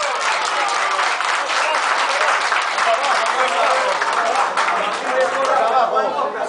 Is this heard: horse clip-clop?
no